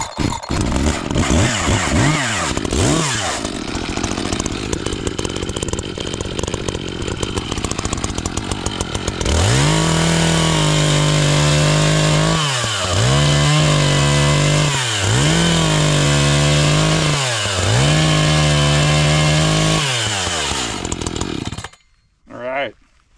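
A freshly sharpened chainsaw revs, then bites into the end of a redwood beam. It gives a loud, close, steady roar with repeated dips in pitch as it bogs under load through the cut. It idles down at the end.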